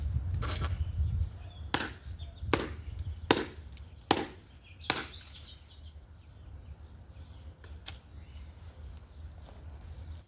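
A SOG Pinnacle Bowie knife hacks through a small 3 to 4 inch tree trunk outdoors, six or seven sharp woody chops in an uneven rhythm, fairly faint against a quiet background with a few birds.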